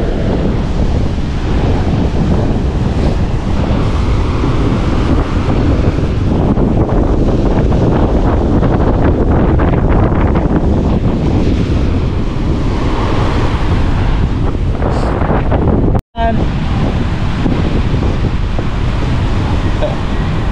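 Heavy surf and strong typhoon wind roar continuously at a river mouth by the sea, close and loud, with gusts buffeting the microphone and a brief dropout near the end.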